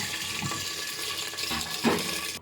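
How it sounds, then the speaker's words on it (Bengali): Water is poured into a pot of spices frying in coconut oil, giving a steady, loud rush and splash throughout with a brief louder surge near the end. "দিয়ে দিলাম পানি।"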